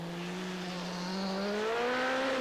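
A Peugeot Group B rally car at the 1986 Swedish Rally, driven by Timo Salonen, sends out a rising engine note. It is a single sustained rev climbing in pitch over a couple of seconds and swelling slightly as the car nears.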